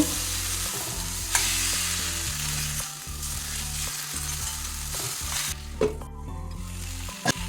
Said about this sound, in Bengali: এবার আমি সজনে ডাঁটাটা দিয়ে দেবো আর টমেটোও দিয়ে দেবো এই সময় আর এইটা দু তিন মিনিট একটু কষে নেব